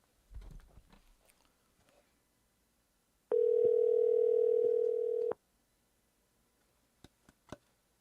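A telephone call rings out with one steady, loud electronic ringing tone lasting about two seconds, preceded by faint handling noise and followed by a few soft clicks.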